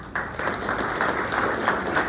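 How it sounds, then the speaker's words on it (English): Audience applauding at a morning business awards event, a burst of steady, fairly close clapping from many hands that starts abruptly and continues evenly, with no talking over it. "So let's give them all a round of applause, and we're so proud of them."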